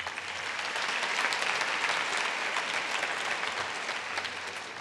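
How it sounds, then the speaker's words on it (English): Steady, loud crowd applause at an entrepreneurship awards ceremony, sustained clapping from a large audience without a break and no voice on top. "Let's give them a round of applause"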